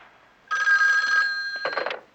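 A telephone bell rings loudly with a bright electronic trill for under a second, pauses briefly, then starts another burst that is cut short, nearby and with no talk over it.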